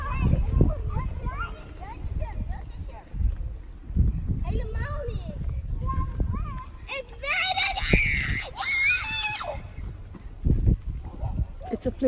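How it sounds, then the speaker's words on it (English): Children scream and shriek at a playground, high-pitched bursts rising over nearby adult and child conversation, with a busy outdoor background. "It's a playground, so like they could scream how they want, right?"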